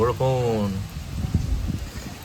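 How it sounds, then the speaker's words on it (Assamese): A voice speaks briefly, then light rain patters steadily in the open at Lachit Maidam in Assam, a soft, scattered crackle of drops close by. "এতিয়া অলপ অলপ বৰষুণো পৰিছে"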